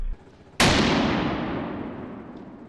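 A single loud rifle shot cracks during a big-game hunt outdoors, its sharp report rolling off into a long fading echo over about two seconds, with no voices.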